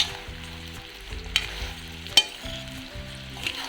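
Homemade mango pickle fries in a small amount of oil with a steady, soft sizzle, broken by a couple of sharp clinks of a spoon or ladle being stirred through the pan.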